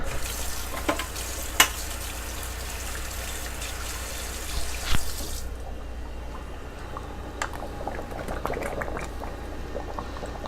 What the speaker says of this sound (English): And now I'm going to give this one final stir.